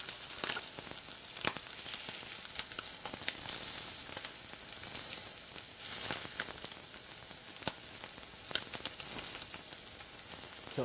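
Scallops sear in a hot pan with a steady, loud sizzle and frying crackle that runs throughout, with scattered sharper pops and spits and no talking.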